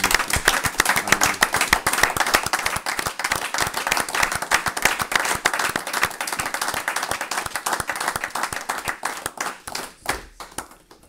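Congregation at an evening church service applauding and acclaiming Jesus, with dense, steady clapping that carries on loud throughout and thins toward the end.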